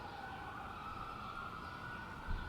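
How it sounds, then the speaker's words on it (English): Emergency vehicle sirens wail outside at a camp, a steady high tone held at moderate distance over a low rumble of background noise, with no talk. "You hear the sirens?"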